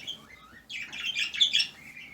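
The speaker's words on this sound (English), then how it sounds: "The birds are happy." Small birds chirp and tweet in quick overlapping bursts, moderately close and fairly quiet, against a soft indoor background.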